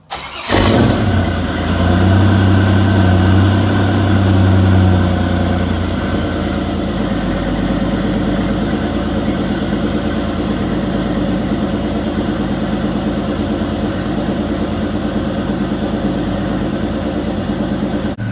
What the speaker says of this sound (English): let's do a little cold start and see how much different it sounds